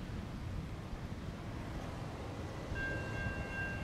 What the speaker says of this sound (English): Sounds like an EMD leader.